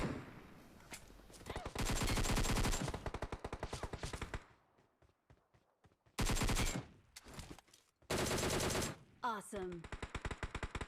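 Bursts of M249 machine gun fire in the mobile shooter BGMI, loud sustained volleys separated by short gaps and quieter single shots, with faint game sounds between.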